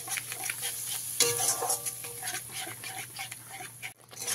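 Yogurt is stirred into an okra masala in a pan over a low flame, giving soft wet scraping and stirring sounds over a quiet sizzle, with a brief louder clatter partway through.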